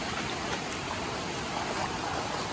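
A river rushes along a trail, its steady broadband flow running continuously and fairly loud, with no voices over it.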